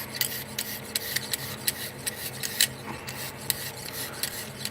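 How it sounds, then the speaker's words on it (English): A diamond sharpener is drawn in repeated rasping strokes across steel to work a burr, making a steady series of scraping filing passes heard up close, with no one talking. "This diamond's cutting the steel."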